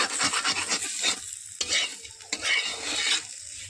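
Pointed gourd fries in oil, with a bright sizzle broken by scraping stirs of a spatula in the pan, coming in several uneven bursts close by.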